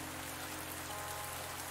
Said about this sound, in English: Look at that rain, it's awesome.